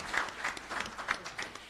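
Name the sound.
applause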